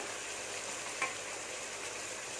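Tomatoes with salt sautéing in a pan for mutton curry, a soft steady sizzle with faint stirring and a single light scrape of the spoon midway, no talking.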